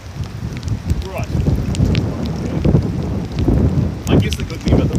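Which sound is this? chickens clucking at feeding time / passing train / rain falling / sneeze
rain falling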